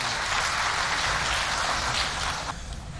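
Audience applause at an African Vaccination Week ceremony: dense, steady clapping from a large crowd throughout, easing slightly near the end.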